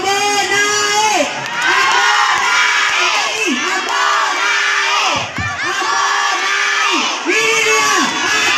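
Spectators at a live performance in Makkoring, Pinrang, cheer and shout loudly and continuously, a dense roar of many voices rising into repeated whoops and calls, close and sustained.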